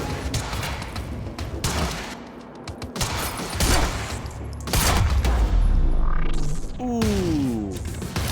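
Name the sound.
gunfire in the video game Quantum Break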